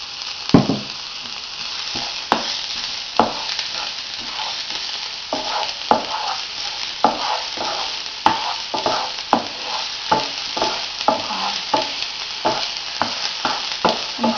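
Onion frying in a pan, a steady close sizzle broken by regular scraping knocks of a utensil stirring the pieces, with no voices.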